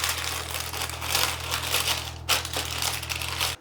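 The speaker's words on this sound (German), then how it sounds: "mit Hilfe der Backbögen formen wir den Boden für die Backform. Also einfach ganz eng an den Form falten" Baking paper is folded tightly into a cake ring for an almond cake, giving close, continuous crinkling and crumpling with a louder crackle near the end over a low steady hum.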